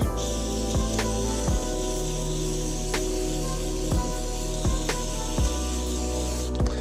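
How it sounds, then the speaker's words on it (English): Compressed air or spray blasting WD-40 out of freshly cleaned bearings, a loud continuous hiss with sharp repeated bursts at irregular intervals throughout. "They've got W40 in them, so I want to blast that off."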